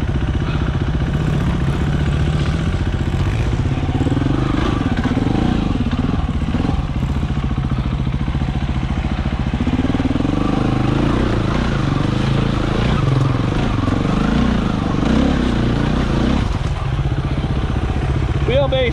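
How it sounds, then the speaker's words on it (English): Enduro motorcycle climbing a rocky riverbed, its mid-pitched engine revving and labouring continuously up close with clattering over rocks, while a rider talks throughout. "Some of this shit you can ride, other stuff you just hold on and see if the bike will take you up it."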